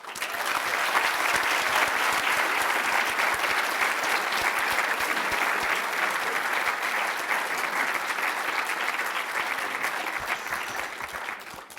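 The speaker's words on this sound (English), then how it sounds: "Let's give him another round of applause." An audience at a legislative breakfast applauds after a speech, a dense, sustained wave of clapping from many hands that stays loud and even for about ten seconds before easing off slightly at the end.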